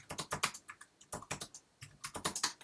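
Rapid bursts of keystrokes on a computer keyboard as a chat reply is typed, clustered in quick runs with short pauses between, close and clear with no talking.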